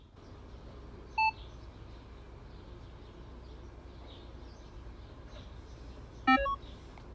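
Two short electronic beeps from a Minelab Equinox 800 metal detector during factory reset, one brief and one slightly longer multi-tone chirp a few seconds later, over quiet outdoor background hiss.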